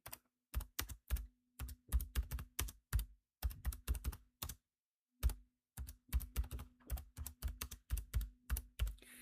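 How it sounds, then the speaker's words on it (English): Keys clatter on a computer keyboard as values are entered into an Excel spreadsheet, a close run of quick irregular taps in bursts with brief pauses between, no voice over them. "when you type a value into your spreadsheet, after you've typed it, you can press enter"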